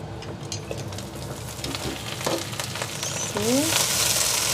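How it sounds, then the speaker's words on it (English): Steady sizzling and crackling of spinach frying in a pan, with occasional clinks and scrapes as it is stirred. "I just hear my spinach making noise"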